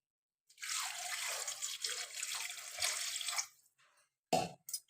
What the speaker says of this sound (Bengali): তারপরে জল ঢালবো।